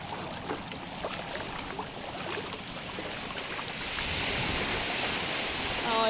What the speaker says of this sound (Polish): O, jaka fala.